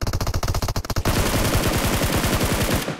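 Rapid automatic gunfire from PUBG Mobile, a burst of evenly spaced loud shots followed by a sustained fast-firing stream, close and dominant with no talk over it.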